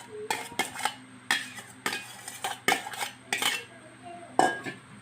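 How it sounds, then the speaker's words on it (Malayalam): A utensil scrapes and clanks against a pan while egg and spinach thoran with grated coconut is mixed, giving repeated sharp metallic knocks and scraping strokes in an irregular rhythm, close up with no talking. "ഇനി ഇതെല്ലാം കൂടെ നമുക്ക് നല്ലപോലെ നമുക്ക് മിക്സ് ആക്കി കൊടുക്കാം"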